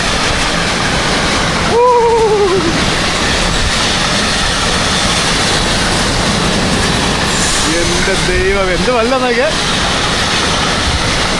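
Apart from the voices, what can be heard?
car-carrier freight train passing at a Polish railway station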